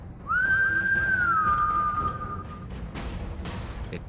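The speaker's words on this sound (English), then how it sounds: "I whistle at the next zombie" A single long whistled note from a tabletop role-play player, rising briefly then holding steady and sliding slightly down before fading, loud and close over a faint background hum.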